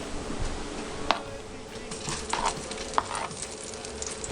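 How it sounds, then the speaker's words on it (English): Sausages sizzle steadily in olive oil and spices in a frying pan, a close crackling hiss broken by a few sharp clinks and scrapes of stirring. "We've got our frying pan sizzling here with olive oil and some spices."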